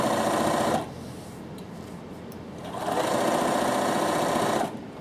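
A Bernina sewing machine stitches binding around the neckline of a Bondi top, running in two steady high-pitched whirring bursts separated by a quieter pause, close and clear with no talk.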